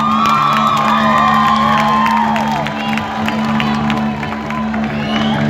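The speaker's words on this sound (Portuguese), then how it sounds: "Uma salva de palmas para Portugal." Crowd cheering and whooping at a summer night festival in Grijó, Portugal, with shouts and scattered claps rising over a steady low hum of the venue, loud and close throughout.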